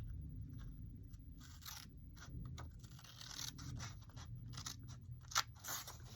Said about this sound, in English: cut this one right to the line, and I'll cut this one